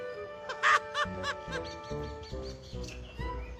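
Chickens in a rural shed at dusk, clucking and squawking nearby in short irregular bursts over a low background.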